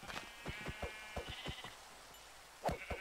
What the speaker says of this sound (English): Oh my god, 3 sheep, just what I need.